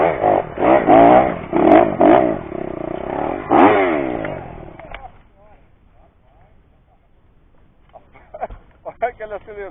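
A motorcycle on a dirt trail revving hard in rough bursts for several seconds before fading into quiet background, with people talking toward the end.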